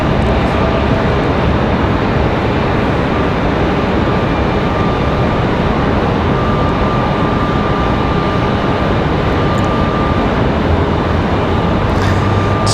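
Delta Airbus A320 arriving from Minneapolis at Raleigh-Durham airport, a loud steady jet roar holding broadband for the whole stretch with a faint engine whine, no voices over it.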